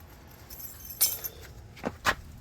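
Car keys being pulled from the ignition of a 1978 Lincoln Continental give a few quick, bright metallic jingles, near and fairly faint, with short bursts around the middle and end.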